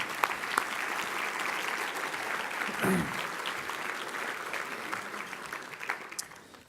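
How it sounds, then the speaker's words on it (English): Members of an audience at a construction-industry luncheon give a short round of applause for standing board members, a steady wash of clapping from a room of people, moderately distant and even throughout. "we'll get a short round of applause"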